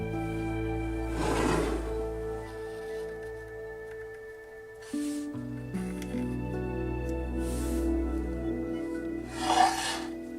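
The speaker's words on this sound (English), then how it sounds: "I also started to round the edges of the plywood over with some sandpaper just to make it feel a bit nicer" Sandpaper rounding over the edges of plywood for a portable jewellery bench, heard as separate rasping rubs over a steady background hum.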